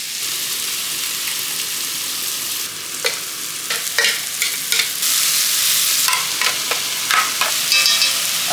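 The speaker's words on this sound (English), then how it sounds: "Now it's time to fry the onion." Onion frying in a pan for Hungarian goulash beef stew after the meat has browned, a steady close sizzle broken by sharp scraping and stirring clicks that grow busier toward the end.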